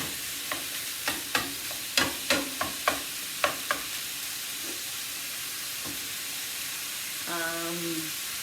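Chicken stroganoff browning in a pan over high heat, with a steady sizzle and frying hiss under a run of sharp clatters from stirring, then a short tonal squeak near the end.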